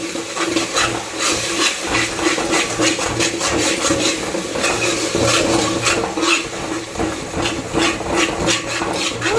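Tomato paste frying with onion and ginger garlic paste in a pan, a steady loud sizzle and hiss with intermittent stirring scrapes throughout.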